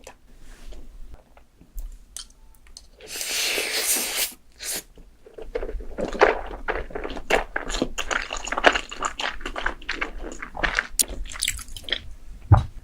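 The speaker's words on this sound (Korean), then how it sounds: "이렇게 듬뿍 얹어서 먹겠습니다" Close-up chewing and slurping of extra-spicy Buldak fire noodles topped generously, with wet, squishy bites and a burst of rustling noise early on, then rapid repeated mouth sounds with no talking.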